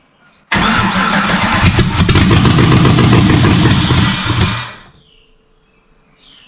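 An engine on a flood-damaged vehicle cranks and roars loudly for about four seconds, then winds down into quiet.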